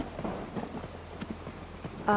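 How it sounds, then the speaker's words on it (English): A thunderstorm rolls through a wintry landscape in the Skyrim VR video game, with a steady, faint hiss of rain and soft low rumbles, then a short bright tonal chime at the very end. "Oh, we've got storm now."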